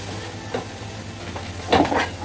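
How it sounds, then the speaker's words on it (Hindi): Chopped carrots are stirred and fried in a pan, with a soft steady sizzle and a few scraping spoon strokes, the louder ones near the end. "अभी हम गाजर भूनेंगे"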